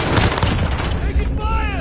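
Dense burst of automatic gunfire in Call of Duty MW, loud and continuous over a short span, with a brief voice under the shots.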